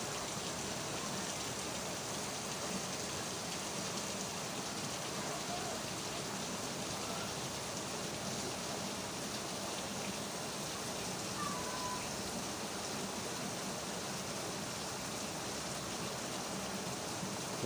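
Steady rain falls and patters on surfaces while a motorcycle is being washed outdoors, a constant broadband hiss holding at an even level throughout with no talk.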